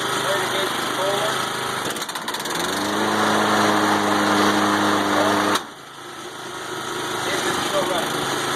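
A Kubota WGC6-21 push mower engine runs steadily, then its note lowers and strengthens into a fuller harmonic drone for a few seconds as the blade engages, before dropping back to a lighter, steady running sound.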